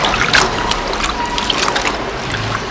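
Freshly shelled broad beans are swished and rinsed in water, with close, steady splashing and small clicks as the beans are stirred by hand.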